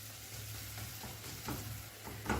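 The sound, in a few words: stirring tomatoes in a cooking pot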